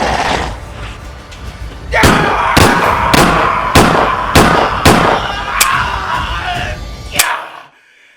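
A rapid burst of about eight sharp, loud gunshots rings out close by in a tense dramatic scene, evenly spaced over several seconds before falling abruptly silent.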